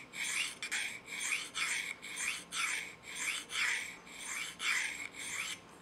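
A knife blade is drawn across a Spyderco Double Stuff sharpening stone to set a micro bevel and raise a burr. About eight even, rasping strokes follow one another steadily, close and fairly quiet, with no voices.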